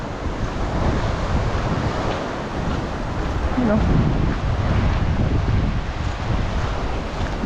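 Rough sea whipped up by low pressure sends waves crashing and surging against a constant roar of wind buffeting the microphone, loud and close, with a brief voice speaking over it.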